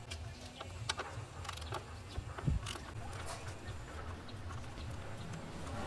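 A 10mm radiator bolt being loosened on a Toyota Corolla Bigbody XE, with faint ticking ratchet clicks and a few light metallic taps against quiet background noise.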